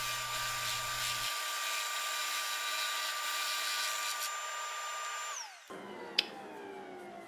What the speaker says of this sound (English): The glued up boards are then cut on the jigsaw.